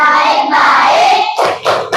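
Classroom of schoolchildren clapping together on a teacher's cue, a dense run of hand claps filling the room and then breaking into a few separate louder claps at the end.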